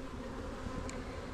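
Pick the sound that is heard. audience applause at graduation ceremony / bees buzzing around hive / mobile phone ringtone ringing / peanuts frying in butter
bees buzzing around hive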